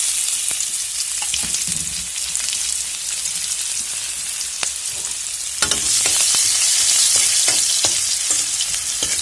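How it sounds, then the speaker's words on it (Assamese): Onions dropped into hot oil with cumin seeds and green chillies, bursting into a loud, dense sizzle that swells partway through, with faint utensil taps and no talking. "এতিয়া মই পিয়াজখিনি দিম।"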